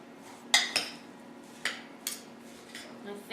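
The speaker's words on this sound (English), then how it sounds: "just kind of mix it up, making sure to coat all the apples with the syrup" Apple pieces being mixed with maple syrup in a bowl: a few sharp clinks and scrapes of a utensil against the dish, spaced irregularly and fairly quiet.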